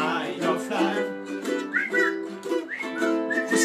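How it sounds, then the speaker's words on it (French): A crowd at a ukulele concert whistles the melody along with the song, several clear rising and falling whistled phrases over strummed accompaniment and singing. "Faut siffler là."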